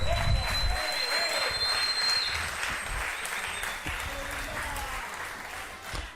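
Congregation applause at a church service, sustained broadband clapping from a large gathering that holds steady for several seconds before gradually thinning out, with faint voices mixed underneath.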